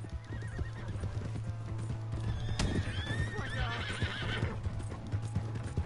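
A horse in Red Dead Redemption 2 neighs loudly over a steady clip-clop of hooves, with a low constant hum beneath, the whinny rising and wavering in the middle of the clip.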